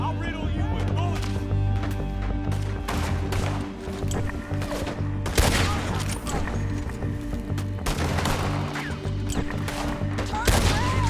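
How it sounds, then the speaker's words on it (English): Gunfire in Red Dead Redemption 2 crackles in rapid volleys of sharp, loud shots over a steady droning backdrop, with bursts clustering across the stretch and a few heavier reports standing out. "I'll riddle you with bullets."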